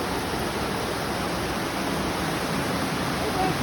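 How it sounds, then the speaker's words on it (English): A Finger Lakes waterfall seen from nearby on an August hike, a steady loud broadband rush of falling water that fills the whole stretch without pause. "we are gonna go right over there to that waterfall"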